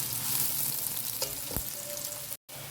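Onions sizzle steadily in a hot pan as they turn light golden brown, a continuous crackling hiss with a faint scrape of stirring and a brief break near the end.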